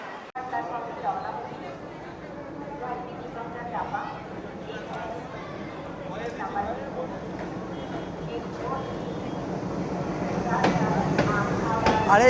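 Howrah–Rampurhat Shahid Express 12347 shunting at platform 6, a steady low rumble and clatter of rail cars that swells toward the end, with a person talking over it.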